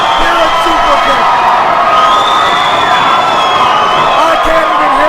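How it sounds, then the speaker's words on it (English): A packed crowd at a Superkick'd wrestling show roars and cheers continuously at full volume, with shouts and whoops throughout and a commentator talking over the din. "The crowd is erupted here at Superkick'd."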